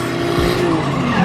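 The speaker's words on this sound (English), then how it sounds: "This is like one of the first times I've actually seen like real drifting" An LS-swapped BMW E46 M3 drifting, its tires squealing loudly and continuously over a strong, sustained engine roar, close and with no voices.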